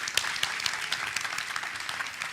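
A conference crowd at a developer event claps steadily for a couple of seconds, a dense, even patter of many hands heard from within the room.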